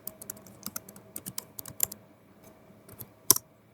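Typing HTML code on a computer keyboard, a close, quiet series of irregular key clicks with a louder keystroke near the end, and no talk.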